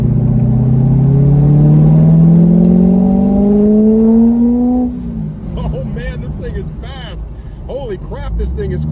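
A supercharged C5 Corvette Z06 with a centrifugal supercharger accelerates hard, its engine note rising steadily in a loud climbing whine and roar for about five seconds before the throttle lifts and it settles into a rougher, lower rumble.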